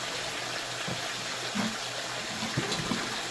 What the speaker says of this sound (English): wash that out one more time. Because again, those cells are plumb full